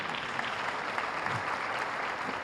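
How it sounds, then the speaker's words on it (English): An audience at a youth festival gathering at Prasanthi Nilayam claps in dense, steady applause, loud and continuous throughout with no talk over it. "The claps are early"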